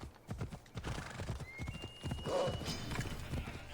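Hooves of the horse Phobos clip-clopping at a steady gallop in Assassin's Creed Odyssey, close and continuous, with a brief whinny partway through and faint talk underneath.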